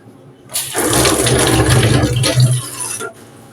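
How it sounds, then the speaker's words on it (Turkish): Tap water gushing steadily into a kitchen sink while onions are rinsed for lentil soup, a loud, continuous rush lasting about two and a half seconds before cutting off. "Soğanları yıkayayım."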